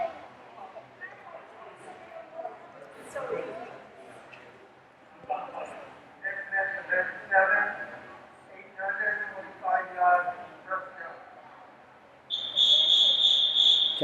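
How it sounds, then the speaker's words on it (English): Starter's whistle at a youth swim meet, a loud, sustained shrill blast near the end following stretches of echoing indoor pool chatter and murmur. "Okay, the starter has blown his whistle."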